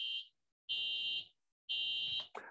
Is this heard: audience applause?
no